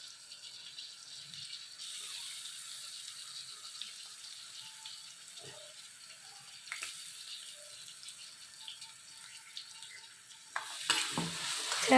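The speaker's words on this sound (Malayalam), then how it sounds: "ഈ അരപ്പ് നമ്മൾ ഈ കോവയ്ക്കയിലേക്ക് ചേർക്കണം." Ground tamarind paste is stirred into ivy gourd frying in a pan, a faint soft sizzle with scattered scraping and clinks, growing louder and busier near the end as the spoon works the mixture.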